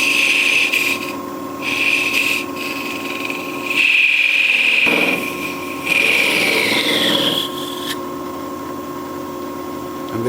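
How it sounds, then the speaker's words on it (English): A parting tool cuts into wood spinning on a lathe while a turned wood flower is shaped: a steady motor whine under bursts of scraping, hissing cuts that come and go in several passes, loud and close. "Maybe refine the bevel a little bit with the parting tool."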